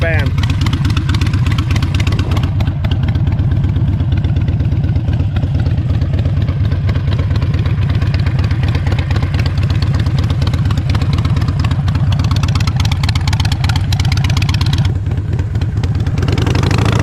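A red and black Harley-Davidson Sportster 883 custom idling close by, a loud, steady low rumble that continues throughout, with speech over it.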